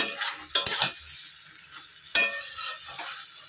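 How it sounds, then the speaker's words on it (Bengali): Soybean meat curry with green chillies sizzles softly in a pan while a utensil scrapes and clinks through it in a few quick stirring bursts, close and fairly quiet. "সয়াবিনের মাংস রান্না করছি"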